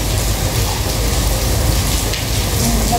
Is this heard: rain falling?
yes